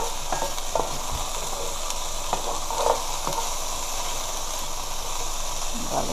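Eggs and sausages fry in oil in a pan with a loud, steady sizzle and crackle that runs throughout, broken by a few sharper pops and stirring scrapes, with no talking.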